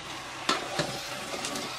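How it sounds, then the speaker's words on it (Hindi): A spoon stirs garam masala through chicken biryani in a hot pot: a couple of short scraping strokes over a soft, continuous sizzle, close by and with no talking. "अच्छे तरीके से मिला दें,"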